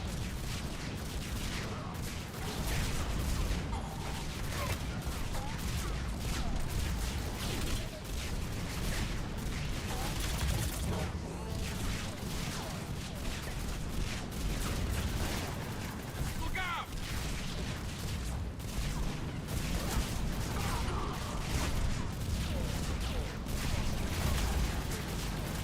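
Mass Effect 3 combat plays out with a grenade blast and a busy, continuous barrage of gunfire and booms, dense and mid-level throughout, with a player talking intermittently.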